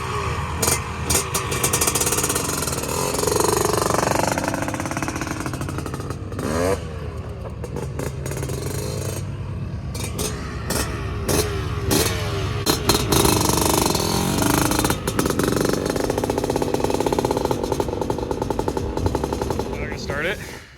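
Repeated attempts to start an old 500 motorcycle engine: rapid clattering bursts and sputtering pops that catch briefly and die, loud and close, with someone talking in between.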